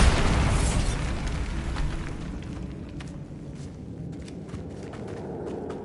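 A Bombarda explosion spell in a video game, opening with a loud booming blast that fades into a long rumbling decay with scattered debris clatter, no voices over it.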